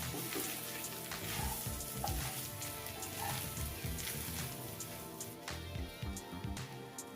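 Chicken thoran being stirred in a pan on the stove, a steady sizzle and frying hiss with scattered scraping and clinking of the spoon against the pan, close and fairly quiet, with no talking.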